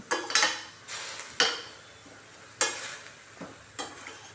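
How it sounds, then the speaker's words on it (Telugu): Spinach for palak paneer is stirred in a wide pot, giving a series of close, scraping, sizzling strokes that come in uneven bursts roughly every second, with no talk. "ఇలా కలుపుతూనే ఉండాలి"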